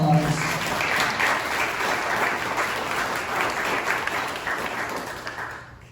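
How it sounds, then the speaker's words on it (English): An audience at a city election forum in Lake Helen applauds its candidates, a steady, full round of clapping that holds for several seconds before cutting off abruptly. "Let's give them a big round of applause"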